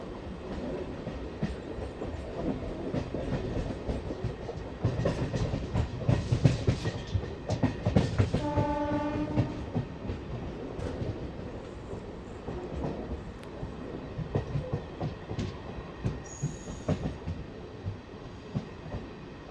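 A MEMU passenger train rumbles steadily along the tracks onto a loop line with rhythmic wheel clatter, a brief tonal squeal or horn partway through, and no talking; near Attili, between Rajahmundry and Bhimavaram.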